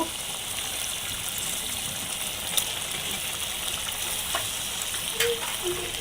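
Beef lung sautéing (bhuna) in a pan, a steady, close sizzle with a few faint clinks and knocks of a utensil over the frying noise.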